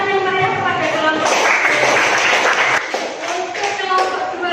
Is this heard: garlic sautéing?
no